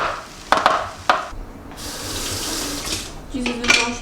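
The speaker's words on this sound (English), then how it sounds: "is washing the dishes" A kitchen tap runs while dishes are washed, a steady stream of water with a few sharp clinks of crockery near the start and end.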